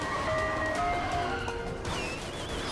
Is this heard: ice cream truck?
yes